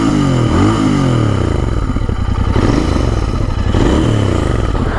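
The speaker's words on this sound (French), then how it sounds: "on va mettre un plus grosse louche de gaz." A Royal Enfield Interceptor motorcycle revs hard while riding near Les Baux-de-Provence, a loud, close engine note that rises and falls with throttle over continuous rumbling and wind.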